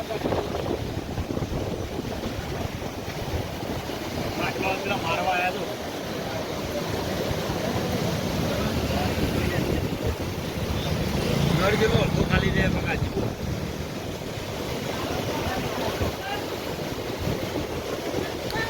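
The Rupen river, flooded and running bank-full, produces a continuous broad roar of rushing water, buffeted by wind against the microphone, while people nearby talk over it.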